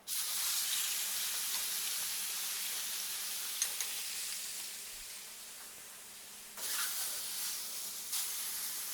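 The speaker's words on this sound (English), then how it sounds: "So just add some oil to the pan. Get it nice and hot. We're gonna get a little sear on our lamb." Lamb searing in hot oil in a pan, a soft, even sizzle and hiss that holds steady, with a brief flare of louder spatter near the end and no talking.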